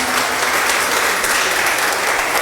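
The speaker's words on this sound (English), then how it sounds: "Let's give her a round of applause" Dense, steady applause from an audience at a menopause talk, a continuous wash of many clapping hands at full volume with no pauses across the whole stretch.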